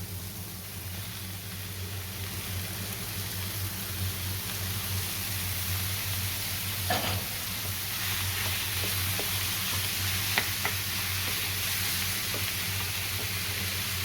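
Minced meat sizzles and fries steadily in a pan with peppers for a Turkish-style filled pastry, a continuous close crackling hiss with a few faint stirring knocks.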